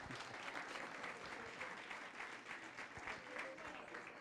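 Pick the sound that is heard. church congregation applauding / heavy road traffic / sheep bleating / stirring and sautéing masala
church congregation applauding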